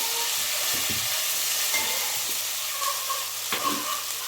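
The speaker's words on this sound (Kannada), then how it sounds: "ಒಂದು ಸ್ಪೂನ್ ಆಗೋಷ್ಟು ಶುಂಠಿ ಬೆಳ್ಳುಳ್ಳಿ ಪೇಸ್ಟು ಈ ರೀತಿ ಎಣ್ಣೆನಲ್ಲೇ ಹುರ್ಕೊಂಬಿಡಿ" Ginger garlic paste fries in hot oil for a Karnataka-style bendekai sambar, giving a continuous bright sizzle with occasional stirring scrapes and soft pops, close and steady with no voices.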